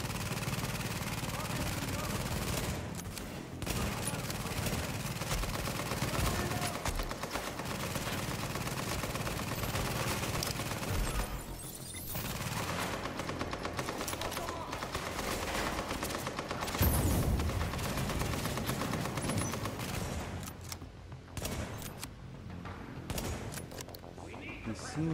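Turret gunfire in The Division rattles on in dense, continuous bursts with a few brief lulls, loud and close throughout, while a voice talks now and then.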